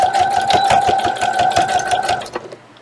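A sewing machine top stitches a band in a fast, even run of mechanical clatter with a whining motor tone, close and loud, then slows and stops just before the end.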